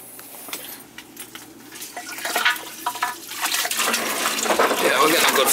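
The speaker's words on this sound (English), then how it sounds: "Let's see if we're getting any water flow here" Water rushing through an old leaking boiler as its zones are purged, a hissing flow that starts faint and swells louder and steadier, with clanks and a voice talking.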